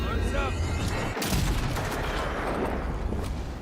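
A single booming gunshot in the fantasy video game Avowed, loud and close, with a long rumbling tail fading under dense battle ambience.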